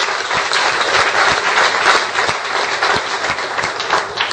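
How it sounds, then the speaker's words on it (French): Church congregation at a Catholic service clapping together in acclamation of the Lord, dense, steady applause filling the room from start to finish with a few sharper claps standing out in a loose rhythm. "On acclame le Seigneur."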